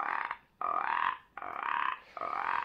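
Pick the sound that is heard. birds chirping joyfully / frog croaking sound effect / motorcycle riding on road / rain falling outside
frog croaking sound effect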